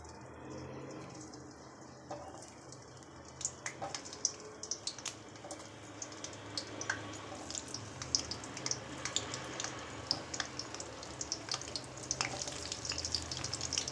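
Pieces of bitter gourd drop into hot oil and deep-fry with a quiet, steady sizzle. Faint irregular crackles and pops rise above a soft low hiss, picking up toward the end.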